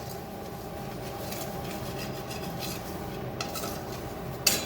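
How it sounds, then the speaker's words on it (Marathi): Semolina and gram flour dry-roasting in a pan, a continuous soft scraping and stirring of a utensil against the pan, with a brief metallic clink near the end. "आता हे दोघं एकदम असा खरपूस होईपर्यंत, तांबडा रंग येईपर्यंत आपल्याला सतत भाजत राहायचं आहे रवा आणि बेसन पीठ"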